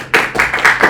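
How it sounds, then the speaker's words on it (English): A tutor's audience at a university engineering crash course claps in a brief, close burst, with several distinct clap pulses over about a second. "So give him a round of applause."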